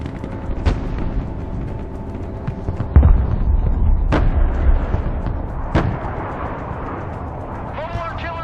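Mobile artillery firing in the video game Broken Arrow: several deep booming shots spaced a second or two apart over a steady engine hum, with radio-style voice chatter mixed in.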